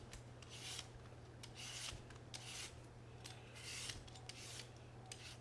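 Three sweet potatoes being peeled by hand, the skins scraped off in repeated short rasping strokes, close and quiet, with no talking.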